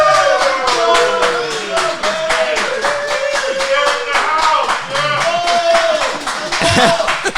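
An audience at a live podcast show in a bar and grill claps to welcome a guest, brisk close applause with sharp individual hand claps and scattered voices, fading briefly before swelling again.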